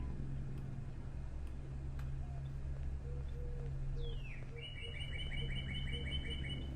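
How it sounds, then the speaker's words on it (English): Synthetic cardinal bird calls in the video game Portal 2: Project 2009, faint chirps and a descending whistle followed by a rapid trill over a steady low mechanical hum. "when GLaDOS activates, it starts playing those cardinal sounds"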